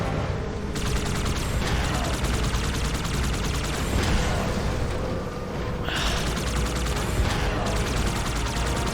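Sustained mounted turret gunfire in Halo Infinite, a loud rattling stream of rapid shots with mechanical clatter and occasional heavier booms, continuous throughout.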